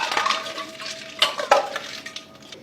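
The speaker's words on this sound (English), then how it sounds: "Give a stir to the drink." A spoon stirs a watermelon drink with dry fruits, almonds, pistachios, cashews and watermelon cubes in a glass, giving close clinks and swirling liquid with a few sharp taps against the rim.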